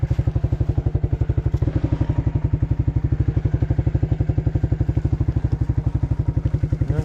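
A quad ATV engine fires up and settles into a steady, loud, rapid thumping idle, close by and running alone without talk.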